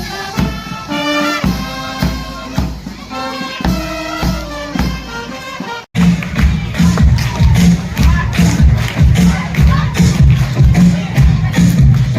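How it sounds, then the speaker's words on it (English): At an annual school sports day, band music plays first, then a large crowd breaks into loud, sustained applause and cheering that fills the second half. "let's all give them a round of applause."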